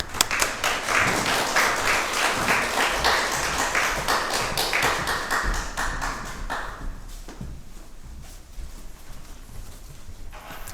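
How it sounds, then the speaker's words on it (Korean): A church congregation breaks into loud, dense applause to welcome a missionary, the clapping sustained for several seconds before thinning into scattered claps and fading toward quiet. "우리 나오실 때 큰 박수로 환영하면 좋겠습니다"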